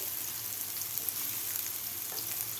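Soybean chunks frying in a pan over a medium gas flame, giving a steady, even sizzle with light crackles throughout and no talking.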